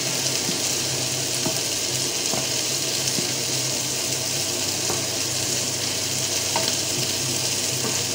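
A cannelloni filling thinned with béchamel is stirred in a hot pan, giving a steady, close sizzle with soft scraping strokes throughout and no voices.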